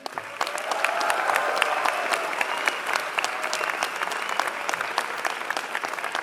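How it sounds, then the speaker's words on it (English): A graduation ceremony audience breaks into loud, sustained applause, many hands clapping at once in a dense, steady wash of sound. "Let's clap it up for them."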